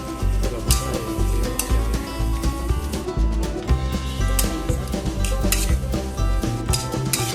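A spatula scrapes and clatters against a pan in a steady rhythm while chicken stir-fries in sauce and dark soy sauce, sizzling underneath, close and continuous.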